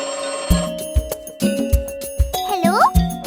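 A cheerful telephone ringtone plays over a bouncy children's rhyme backing track with rhythmic beats and chiming tones, ending in a rising warbling ring as someone speaks.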